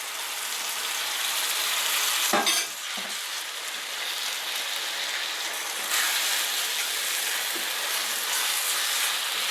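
Aubergine pieces sizzle and fry in a hot pan with onion, garlic, chili and ginger, a steady close crackle broken by a couple of sharp scraping stirs of a spoon.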